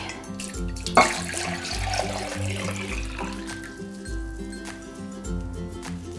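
Water pours steadily from a container and splatters into another vessel in a home kitchen, a continuous close rushing splash with a brief sharper splash near the start.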